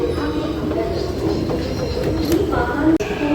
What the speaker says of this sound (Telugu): మెట్రో ట్రైన్ వచ్చేసింది